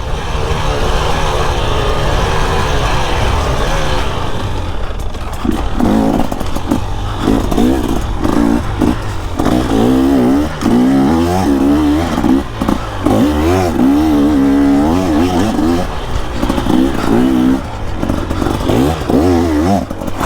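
A 2024 KTM 300 EXC two-stroke dirt bike engine revs hard and loud up close, climbing and dropping in repeated bursts with clattering and scraping from the ride mixed in.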